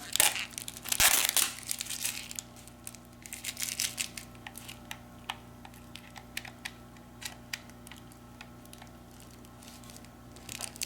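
Plastic packaging pulled off an Amazon Fire TV Game Edition box, with close crinkling and crackling bursts, loudest at the start, then scattered sharp rustles and clicks.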